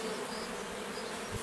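Honey bees hum around a small swarm newly housed in a Japanese hive, a close, continuous buzzing drone with no pause over the brief moment.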